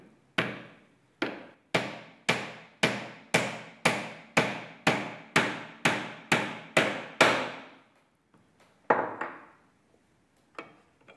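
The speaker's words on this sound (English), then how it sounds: "so that when we are nailing, the nail stays in position" Hammer blows drive a nail into wood: a steady run of about fourteen sharp, ringing strikes at a regular pace, close and loud, then a pause and a few lighter taps.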